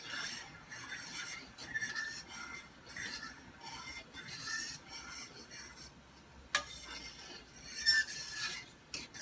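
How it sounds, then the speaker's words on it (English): Quiet scraping and clinking of a spoon stirring a homemade drink of two cans of coconut milk and two cans of cream of coconut, irregular rubbing strokes with a couple of sharp taps. "And just stir."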